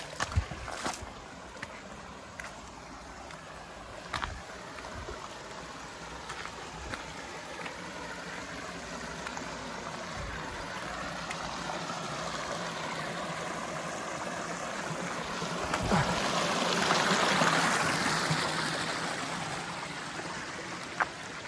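Water rushes steadily at Kaytapos Falls, a broad continuous roar that swells louder toward the end, with a few faint clicks and no talk over it.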